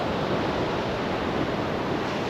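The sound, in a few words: sea waves at a river mouth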